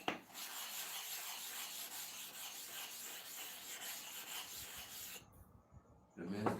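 A clipper blade is sharpened with steady, continuous abrasive rasping that runs close and even, briefly falls quiet near the end, then resumes.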